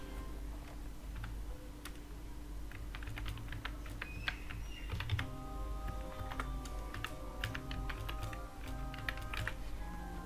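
Steady clicking keystrokes on a computer keyboard fill the whole stretch as an email address is typed, close and fairly quiet over a constant low hum, with no talking.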